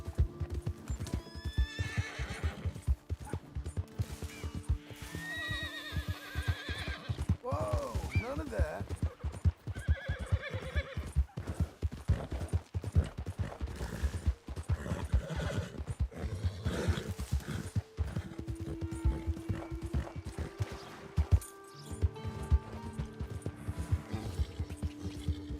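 Horse hooves clip-clop at a steady gallop with repeated whinnies and neighs in Red Dead Redemption 2, the riding loud and continuous beneath game music and someone talking over it throughout.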